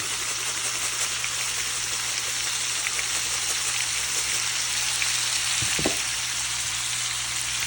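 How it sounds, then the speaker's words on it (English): Pork browning in a hot pan for pasta with fresh tomato, a constant close crackling sizzle with a brief clatter near the end. "I'm going to cook that so it's nice and brown."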